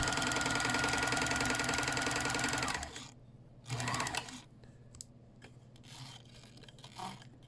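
A stiff Kenmore sewing machine hums and clatters steadily and loudly for nearly three seconds, then cuts out, leaving a quiet room with a couple of short mechanical whirs and faint ticks.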